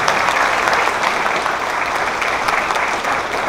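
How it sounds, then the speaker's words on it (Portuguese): Wedding guests at a ceremony applauding, a loud, dense wash of many hands clapping steadily and close throughout. "Mais uma salva de palmas, por favor."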